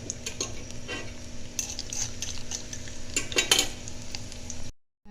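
Cashews and raisins frying in oil over a low flame while being stirred, producing a steady close sizzle with repeated metallic scrapes and clinks of a spoon against the pan, then cutting off abruptly at the end.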